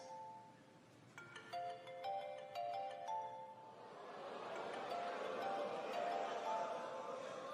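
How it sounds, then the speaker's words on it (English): A mobile phone ringtone plays in a comedy show audience, a bright repeating chiming melody that gives way to a swell of crowd noise and laughter. "Go on and answer your phone"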